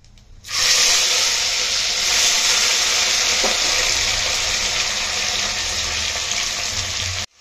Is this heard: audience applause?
no